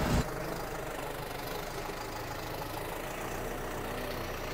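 A Guard World WD 754 75 HP tractor engine runs steadily, pulling a 13-tine cultivator, a continuous low rumble that holds an even level after a brief louder burst at the start, with no voices.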